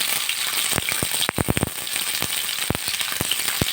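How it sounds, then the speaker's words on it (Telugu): Tomatoes and green chilies fry in a little oil in a pan, a continuous close sizzle punctuated by sharp clacks and pops from a spatula moving them around. "ఇప్పుడైతే అదే ప్యాన్లో కొద్దిగా ఆయిల్ అయితే వేసేసుకొని టమాటో పచ్చిమిర్చి ఇవన్నీ బాగా మగ్గించుకోవాలి"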